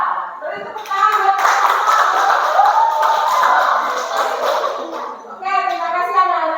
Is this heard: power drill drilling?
no